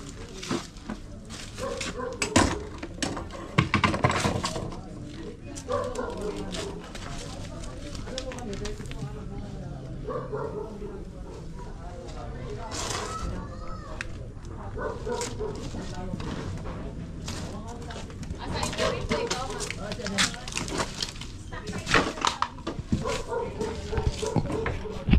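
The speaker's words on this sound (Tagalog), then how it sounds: "May aso kasi." A dog barks, yips and whimpers repeatedly at close range through most of the stretch, with people talking over and between the calls outdoors.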